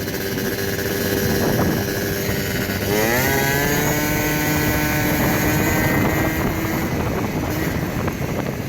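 A Honda Elite scooter fitted with a Polini Corsa kit revs at about three-quarter throttle, its high buzzing two-stroke whine climbing in pitch and holding steady under loud wind rush, close and continuous.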